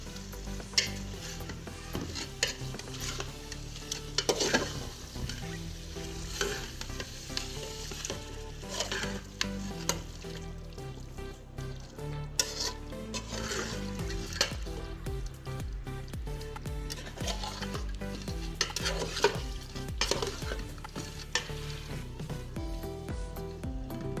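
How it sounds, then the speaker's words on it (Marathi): Chicken is stirred through frying onion masala in a pot, giving a continuous close sizzle broken by repeated spoon scrapes and knocks against the metal at an irregular pace, with no voices. "चांगलं मिक्स करून देऊ कांद्यामध्ये"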